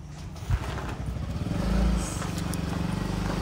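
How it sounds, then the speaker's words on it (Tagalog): A motorcycle being moved on Samal Island, its engine giving a steady low rumble that swells briefly midway, close by and continuous with faint background noise. "So, kailangan lang i-move ni Habi yung motor natin doon."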